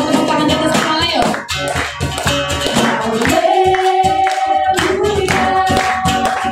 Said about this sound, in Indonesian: Sama-sama tepuk tangan di atas kepala yuk.